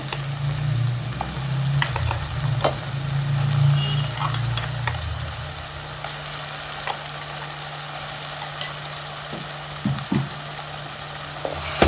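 Masala with ginger garlic paste fries in hot oil for a green chicken curry, a steady close sizzle running throughout with a few light stirring scrapes and clicks, no voices.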